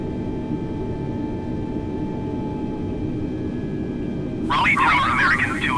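Airliner engines spool up for takeoff in Flight Simulator 2020, a steady broadband roar under faint tonal whine, with a louder burst of radio-like chatter or processed noise entering near the end.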